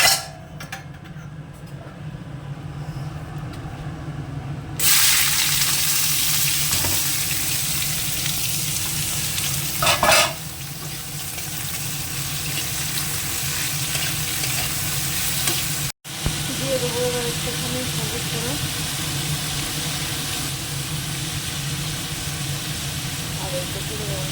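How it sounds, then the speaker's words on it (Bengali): Bitter gourd and potato dropped into hot oil, a sudden loud, continuous hiss of frying that stays strong with a brief interruption midway, and a voice faintly present beneath it. "এবার উচ্ছে আলুটা ভেজে নেবো তেল দিয়ে দিচ্ছি"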